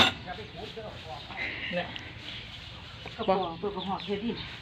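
Chickens cluck close by on a farm where cow dung is being dug up in the morning, with short clucks and calls scattered through the clip under a person's chatter.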